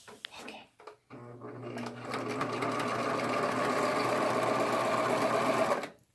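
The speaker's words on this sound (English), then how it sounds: "So we're going to try it." A Juki serger sewing machine runs after threading, its rapid, steady mechanical whir starting abruptly after a few handling clicks, holding loud and even for about five seconds, then stopping cleanly.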